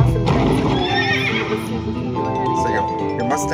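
A horse whinnies over electronic slot machine game music and chiming tones, with a clip-clop effect and a voice underneath.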